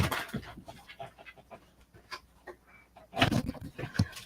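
A small wet dog that has just come into the house pants in quick rhythmic breaths close by, with a brief whimper and a louder burst of panting toward the end.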